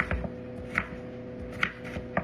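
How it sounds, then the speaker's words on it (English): Potatoes are chopped on a cutting board with a knife, a handful of sharp, evenly spaced thuds standing out clearly against a steady indoor room hum. "Almost done chopping up these potatoes."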